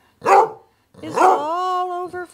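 A dog gives a short bark-like yelp, then after a pause lets out a long, steady, tonal howl that holds for nearly a second, close and clear against a quiet background.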